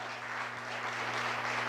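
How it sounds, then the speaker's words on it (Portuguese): A church congregation claps together during a worship service, a steady dense wash of applause that holds at an even level, with a low electrical hum underneath. "Uma salva de palmas ao nosso Deus"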